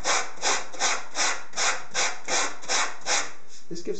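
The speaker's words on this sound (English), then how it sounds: "I shall be using one of these sanding blocks and just smoothing over the surfaces" Sanding block smoothing a foam model rock, rhythmic back-and-forth rubbing strokes, about eight even scrapes close up, ending in a brief handling noise.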